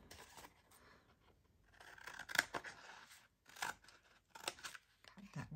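Scissors snip around paper collage tabs for a journal, close and crisp in short irregular bursts of cutting separated by brief pauses.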